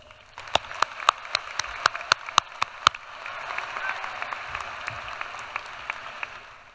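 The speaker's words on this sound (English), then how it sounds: "let's give all of these people a round of applause" Audience applause at a graduation ceremony, steady clapping from a large crowd in a hall, fairly distant, with a few louder individual claps standing out at the start and continuing evenly.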